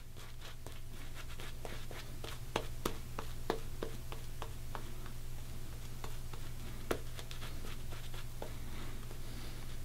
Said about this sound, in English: So we'll lather it up again.